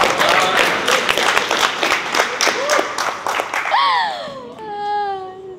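Crowd applause and cheering break out after a ceremonial first pitch at a baseball game, a dense burst of clapping with voices over it, ending in a few excited shouts.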